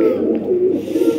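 A pigeon coos close by in a short, soft, throaty warble lasting about a second.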